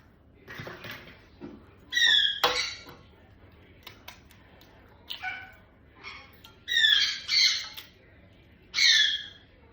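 A pet bird squawking in a home kitchen, several short loud harsh calls in irregular bursts, close by and alone without talk, with faint clinks of kitchenware between them.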